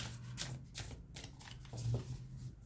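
Tarot cards being handled and shuffled to draw two more, making soft, quick papery flicks and riffles in a quiet room with no talking.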